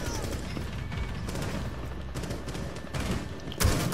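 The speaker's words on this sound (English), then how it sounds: "Oh lord, I'm getting shot at!" Rapid bursts of gunfire rattle in Rainbow Six Siege, shots clustering in close, sharp volleys with a louder burst at the end, faint player voices mixed in.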